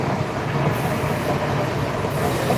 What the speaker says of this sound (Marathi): मुंबईची लोकल मुंबई ट्रेन पाहू शकता